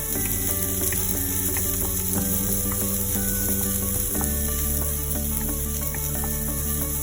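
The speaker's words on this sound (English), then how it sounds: "We sauteed the onions in it." Onions sautéing lightly in a little hot oil in a kadhai give a steady, dense sizzle that runs unbroken from start to finish, fairly close, with a low hum underneath.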